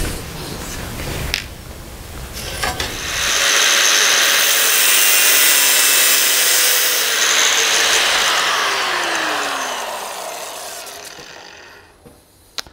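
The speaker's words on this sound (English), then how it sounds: "By the way, I'm using very thin cutting wheels." Thin abrasive cutting wheel slicing metal at a 45-degree angle for a rusty vehicle's rear cabin cross member: a loud steady grinding whine that holds for about eight seconds, then spins down as the wheel slows.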